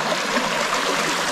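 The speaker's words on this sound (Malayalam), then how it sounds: "വെള്ളത്തിൻ്റെ സൗണ്ടൊക്കെ കേൾക്കുന്നില്ലേ നിങ്ങൾക്ക്?" A small stream flows across the edge of farmland, giving a steady, close rush of trickling water that holds even throughout with no voices.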